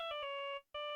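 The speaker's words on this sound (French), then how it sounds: "ça c'est sa sonnerie à lui, au gars" A phone ringtone in the Phoenix Wright courtroom game plays as a bright electronic tone pulsing in quick beeps, cut by a brief pause before resuming, fairly faint and alone.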